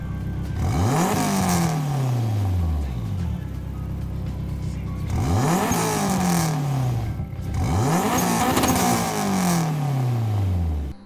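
Tuned old tiny car with a swapped Honda engine in Gran Turismo 7, revving up through the gears in three repeated loud acceleration runs, each pitch sweep climbing then dropping at shifts, no talking.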